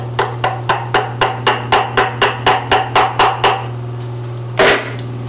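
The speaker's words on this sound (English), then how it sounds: "I'm just going to use a little brass hammer." A small brass hammer taps a metal nut in a quick, steady series of about fifteen light strikes, pauses, then lands one heavier blow.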